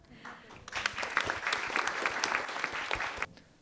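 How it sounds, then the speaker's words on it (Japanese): An audience at an architecture award ceremony breaks into sustained applause, a steady clatter of many hands that swells and holds for a few seconds before fading out. "皆様大きな拍手をお願いいたします。"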